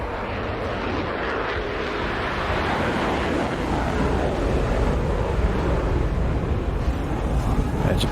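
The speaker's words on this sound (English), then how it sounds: "Those are the two Saturn AL31 afterburning turbofan engines." Su-27 fighter's twin Saturn AL-31 afterburning turbofan engines in a flight-simulator airshow demo, a loud, broad, continuous roar lasting throughout with steady rushing intensity and no speech.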